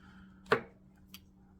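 Two brief hissing perfume sprays, the first louder and sharper, the second fainter about half a second later, in a quiet room.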